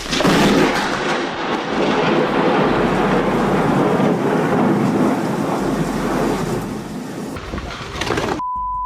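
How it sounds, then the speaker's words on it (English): Thunder from lightning striking a utility pole at night rumbles loud and continuous for about eight seconds, dense and roaring, then cuts off abruptly into a faint steady tone. "A utility pole exploded like fireworks in the night after being struck by lightning."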